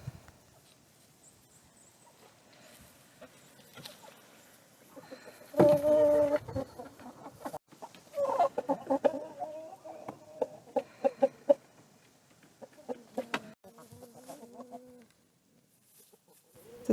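Chickens on a Norwegian homestead cluck and call in short irregular bursts on a cold, frosty autumn day, moderately close, with quieter stretches between outbursts and other bird calls mixed in.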